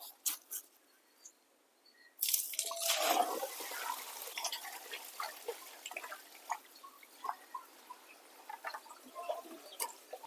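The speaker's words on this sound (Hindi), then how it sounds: "तो सबसे पहले हम इस पानी के ड्रम को खाली करते हैं" A water drum being tipped out behind a house, with a sudden gush of splashing water that fades into scattered drips and small trickles, close and fairly quiet.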